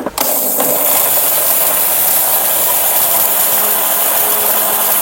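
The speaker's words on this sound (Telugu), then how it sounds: "ఫైన్ పౌడర్ లాగా గ్రైండ్ చేసి తీసుకుందాము." A mixer grinder's jar grinds homemade curry powder spices into a fine powder, making a loud, steady whirring roar that runs unbroken throughout with no voices.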